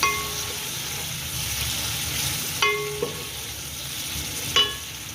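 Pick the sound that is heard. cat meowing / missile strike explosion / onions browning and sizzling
onions browning and sizzling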